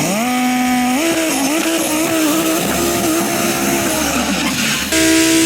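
A 5.2 litre V10 in an Audi R8 Spyder revs hard and close, its high-pitched wail climbing in steps, dipping, then surging again near the end with no voices over it.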